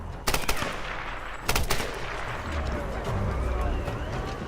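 Gunfire in the video game Tomb Raider Definitive Edition, with two sharp loud bursts of shots close together early on, followed by lingering game ambience and someone talking over it.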